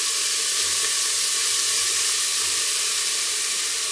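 Ginger and garlic hit hot oil flavored with cumin, giving a loud, steady, close hiss of sizzling that holds unbroken for the whole few seconds, with no voices.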